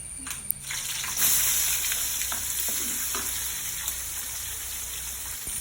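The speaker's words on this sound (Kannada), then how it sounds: "ನಂತರ ಕಟ್ ಮಾಡಿಟ್ಟಂತಹ ನೀರುಳ್ಳಿಯನ್ನು ಅದಕ್ಕೆ ಹಾಕಬೇಕು" Chopped onions go into hot tempering oil with mustard seeds and curry leaves, setting off a sudden surge of sizzling that settles into a steady, close frying hiss with light crackles.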